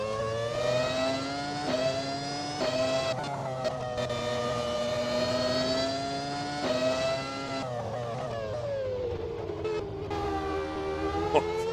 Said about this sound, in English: I think the engine sound, it's something that comes with the mod. I think it's the McLaren sound.